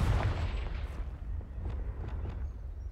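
A Confringo blasting spell erupts in Hogwarts Legacy with a deep, rumbling boom at the start that decays into scattered fainter crackles and thuds.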